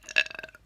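A single loud, close burp swells up and rattles through several quick pulses before fading out, performed as part of a prank.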